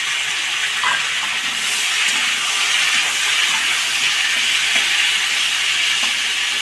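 Finely chopped tomatoes go into a hot pan for a potato and drumstick curry, giving a loud, continuous, bright sizzling hiss that holds evenly throughout with no voices.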